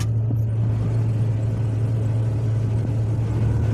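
A combine harvester engine, a TRION 750 or John Deere S690J working a corn field, runs at a steady low droning rumble, loud and close, with no distinct start-up surge.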